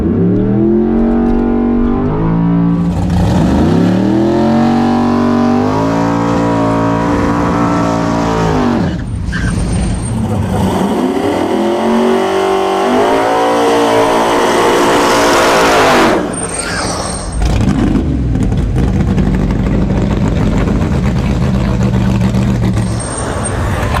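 A first-generation 1967 Camaro drag races a Tesla Plaid, its loud V8 revving hard through rising gear changes, close and continuous, with the engine note sweeping up and dropping repeatedly over about twenty seconds.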